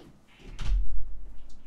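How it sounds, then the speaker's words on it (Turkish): Door opened indoors to let a cat in, a single close thump and rattle of the door swinging, followed by a low rumbling handling noise, fairly loud, with no talking. "Kediye kapı açacağım affedersiniz"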